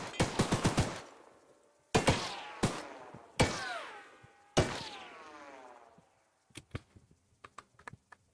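A train-mounted gun in the game Choo-Choo Charles fires a quick volley of shots, then several single heavy blasts spaced apart, each ringing off in a metallic decay, before soft mechanical clicks follow.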